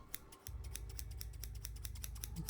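Close, crisp scissors snip repeatedly in a steady rhythm while trimming hair in a Halloween-themed personal attention roleplay, each blade cut sharp and distinct over a low background hum.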